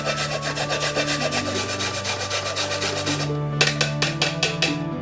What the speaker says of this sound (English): I'm going to season this first with that frozen ginger, which is really easy to grate into a serious powder when it's frozen